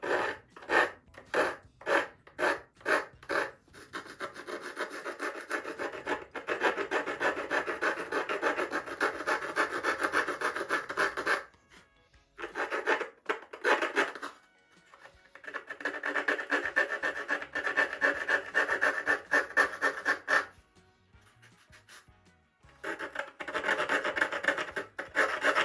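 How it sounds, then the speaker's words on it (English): Light sanding along the edge of a horizontal stabilizer on a Top Flite .60 size P-40E Warhawk model airplane, with crusty hard glue on it: quick rhythmic rasping strokes at first, then long, steady, close rubbing broken by short pauses. "So I just lightly sand till you get all that edge off."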